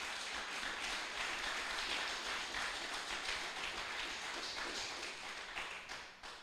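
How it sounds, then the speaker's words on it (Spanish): A church congregation applauds together, a dense, steady wash of many hands clapping that carries on for several seconds and tapers slightly toward the end. "¿Puede darle un aplauso a ese Espíritu Santo?"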